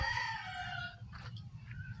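A fighting rooster kept for cockfighting crows loudly in a long drawn-out call, followed by a few short clucks, with a low steady rumble underneath.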